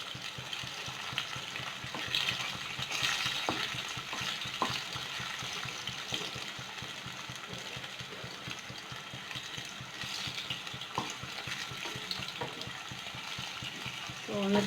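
Bitter gourd slices deep frying in oil in a pan, giving a steady close sizzle and bubbling with light clatter, running continuously under occasional soft talk.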